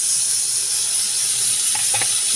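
Spice paste frying in hot oil with potato and tomato in a pan gives a steady high sizzle and hiss throughout, with a couple of faint stirring scrapes near the end.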